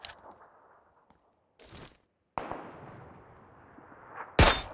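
Gunshots ring out in the video game PUBG Lite, a few sharp, loud reports spaced apart, each followed by a long fading echo tail.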